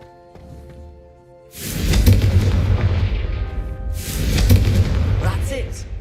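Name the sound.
Confringo spell cast exploding in the video game Hogwarts Legacy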